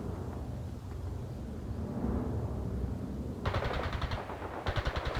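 Machine gun fire from the strategy video game World in Conflict, rattling in short bursts over a steady background rumble of battle.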